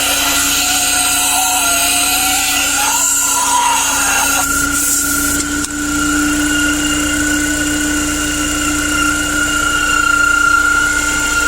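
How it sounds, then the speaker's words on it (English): A failing secondary air pump with worn bearings on a 1998 BMW Z3 1.9L lets out a loud, steady high-pitched squeal over a constant running drone, close up and continuous. "it's making a really loud squealing noise, and I believe the bearings are gone in that unit"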